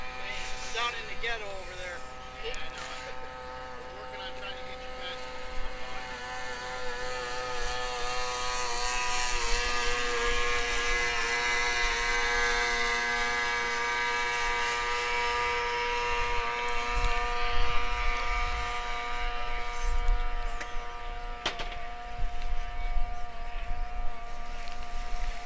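Racing boats out testing at the Dayton Record Runs drone continuously at a distance, a buzzing engine whine that rises and falls, with a commentator talking over it.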